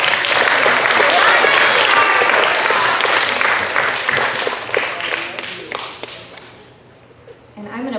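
Audience applause at a school awards and promotion ceremony, a full room clapping loudly and steadily, then thinning to scattered claps before fading out, with voices mixed in.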